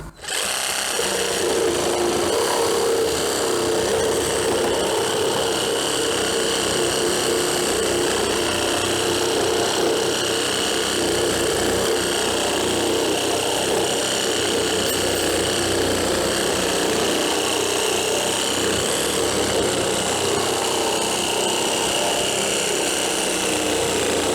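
A steady, continuous motor whine runs for the whole stretch at constant loudness, an Einhell GE-GS 18/150 cordless pruning saw cutting branches, buzzing with no pauses and no voices.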